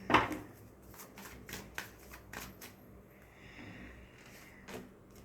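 Tarot cards are drawn from the deck, with quiet papery shuffling, flicks and a few sharp card snaps close by and no talk.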